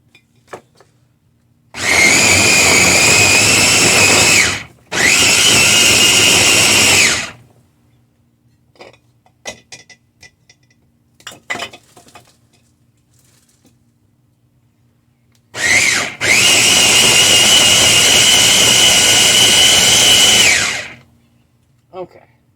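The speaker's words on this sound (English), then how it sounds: "I'm still trying to get used to this blender." A blender roars loudly through a whole pineapple in three long bursts of several seconds each, with quiet handling clatter and pauses between them.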